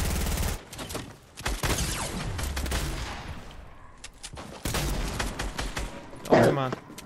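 Rapid bursts of video game gunfire crackle in loud clusters throughout a random duos match, with a heavier volley near the end and players talking over the shots.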